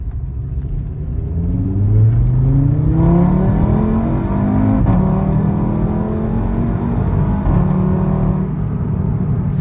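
Audi RS3 five-cylinder engine accelerating hard with its exhaust, a deep rumble climbing in pitch through successive gear pulls, close and loud, with no talk.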